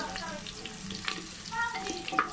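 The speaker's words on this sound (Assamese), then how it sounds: "তাত মই তেজপাত দি দিছোঁ আৰু এয়া গৰম মছলা দিছোঁ।" Bay leaves and garam masala fry with reddish-browned onions for chicken biryani, giving a quiet, steady sizzle with faint scraping of stirring and a few brief clinks.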